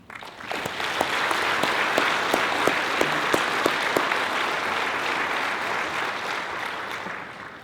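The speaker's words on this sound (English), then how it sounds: "how about a round of applause for everyone who's honored this evening?" A room full of guests at a chamber of commerce community celebration applauds honorees in a steady, dense wash of clapping that runs loud and sustained for several seconds before easing slightly.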